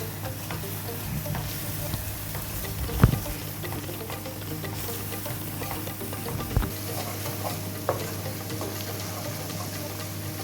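Chole masala and chilli powder frying in a pan for Amritsari chole, a soft steady sizzle and patter with a few brief louder clicks of the pan, no voices.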